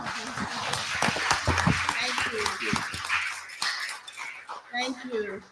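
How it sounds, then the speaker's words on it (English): An audience at a Busboys and Poets book presentation claps, sharp uneven hand claps mixed with room chatter and a voice speaking over the applause as it fades out. "Let's go ahead and give them a round of applause."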